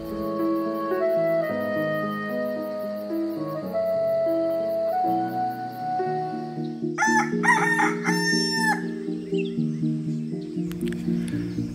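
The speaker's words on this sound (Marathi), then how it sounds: "दुसऱ्या दिवशी अमराईतील पक्ष्यांच्या आवाजाने जाग आली." A rooster crows loudly and repeatedly in a mango grove at an agro-tourism farm near Pune, joined by softer chirping from morning birds and carried over a steady layer of background music.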